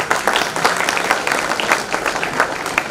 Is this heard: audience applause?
yes